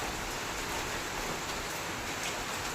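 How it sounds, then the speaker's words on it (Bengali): Rain falls in a steady, even hiss, a continuous wash of sound without breaks. "বৃষ্টি দিয়ে দিয়েছে, এই 9:50 হবে তখন থেকে নেমেছে বৃষ্টিটা"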